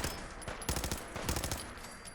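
Gunfire in Fallout 4 comes as rapid bursts of close, punchy shots, a rattling cluster of automatic fire with brief gaps, fairly loud against a low background hum.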